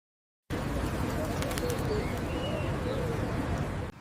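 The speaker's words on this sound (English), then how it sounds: "Pigeons are gray and live in cities." Pigeons cooing in a city, with steady low murmuring calls over a dense, noisy background and a few faint chirps scattered above.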